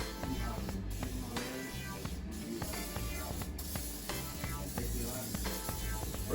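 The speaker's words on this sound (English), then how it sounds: "I'm going to use some of this olive oil to spray down my griddle." Olive oil spray hisses onto a griddle for pancakes in several faint bursts over about six seconds, a soft close spraying sound with quiet background noise.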